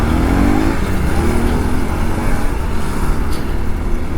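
A motorbike loaded for a long touring ride in Karnataka runs steadily at close range, a continuous loud engine drone with a brief rising whine early on and no voices.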